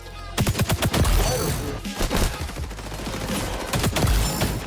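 Gunfire in the video game XDefiant, rapid automatic bursts in quick succession, loud and close, repeating over nearly five seconds with brief gaps between volleys.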